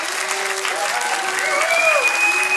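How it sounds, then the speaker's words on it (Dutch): An audience at a Maastricht student contest gives a loud, sustained round of applause, dense clapping close and continuous, with a few whistles or cheering tones rising over it. "Geef ze dan nog 1 keer een denderend applaus"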